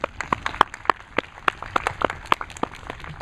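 Audience applauding at a watch party for a stage production of A Midsummer Night's Dream, scattered individual claps rather than a dense roar, moderately close and fairly sparse.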